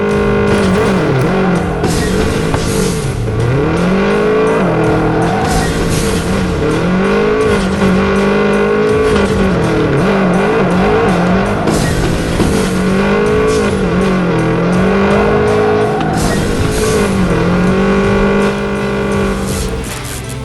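Racing car engines roar continuously in a realistic mobile car racing game, loud and close, with repeated rising and falling revs through gear shifts and occasional tire squeal over about twenty seconds, no talking.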